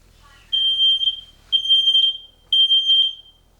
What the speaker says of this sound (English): fire alarms went off because I was lit the incense before the video